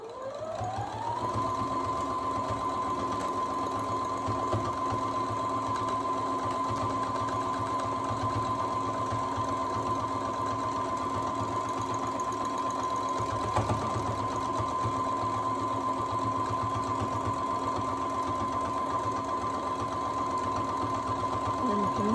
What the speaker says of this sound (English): I'm going to backstitch right on top of this, right where I started.